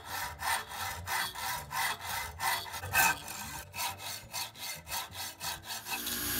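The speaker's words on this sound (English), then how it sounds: "Just a hand hacksaw and some cutting oil will make it through." A hand hacksaw, lubricated with cutting oil, cuts through a hardened grade 10 steel bolt in rhythmic back-and-forth strokes, roughly two per second. It is close and fairly quiet, with a brief louder scrape midway.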